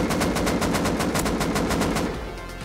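Rapid full-auto gunfire from a weapon in the video game Rust: a dense, loud, steady stream of shots with no pauses, easing slightly at the very end.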